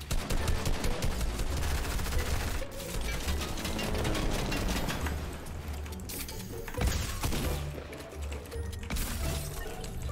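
A drum gun in the Fortnite video game fires rapid bursts of gunfire that run almost continuously. The shots are loud and dense, with brief pauses between volleys.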